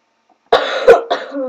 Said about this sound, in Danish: jeg hoster så meget, det er, jeg er forkølet